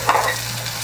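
Shrimp for spicy garlic shrimp with black beans frying in a pan, giving a steady close sizzle with a brief louder stir-like burst near the start, all under a low constant hum.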